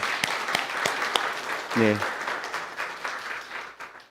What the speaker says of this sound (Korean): 우리 교회를 방문해 주신 분들께 우리 환영의 박수 한번 보내주시면 감사하겠습니다.